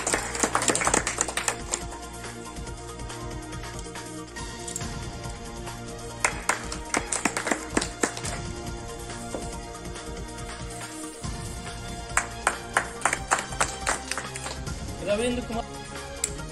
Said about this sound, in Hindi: भाई ताली तो बजा दीजिए